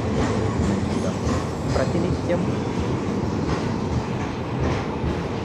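Train rumble at Nizamabad railway station, a steady loud low rolling noise with faint clatter filling the whole stretch, with a voice talking over it.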